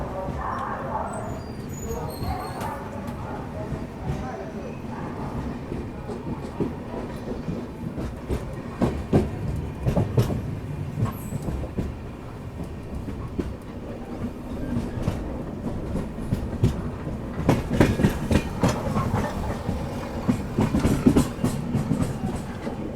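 The Nagarsol–MGR Chennai Central Weekly Express moving along the track after departing Kadapa, with steady rolling rumble and rhythmic clickety-clack of wheels over rail joints, growing busier toward the end.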